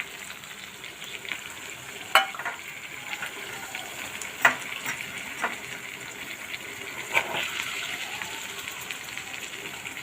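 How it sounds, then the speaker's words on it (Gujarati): Tomato gravy sizzles and fries steadily as it is added to okra in a hot pan, a continuous crackle broken by a few sharp spatters and stirring clinks, with no talking. "ત્યાર પછી આપણે 2 ટમેટાની ગ્રેવી નાખી દઈશું."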